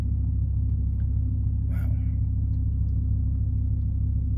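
Steady low engine rumble from a BMW M6 V10 coupe on a rainy test drive, a constant deep drone throughout with a brief voice exclamation near the middle.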